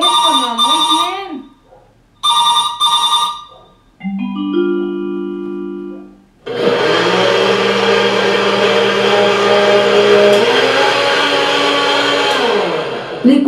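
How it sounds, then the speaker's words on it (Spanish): An electric blender starts and runs loud and steady with a high whirring motor whine, after a trailing telephone ring and a brief lower tone at the start. "Licuadora. Una licuadora."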